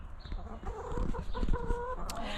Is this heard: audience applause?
no